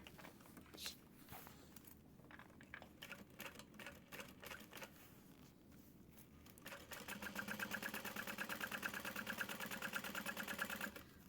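A sewing machine top stitches a tote bag, starting with scattered clicks and handling noises and then settling into a steady, fast mechanical whir of needle strokes, close and with no talking.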